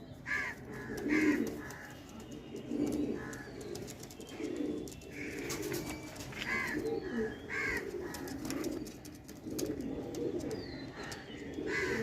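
Pigeons coo repeatedly in soft, overlapping rounds, with scattered wing flutters and rustling in a busy enclosed space at a pigeon sale.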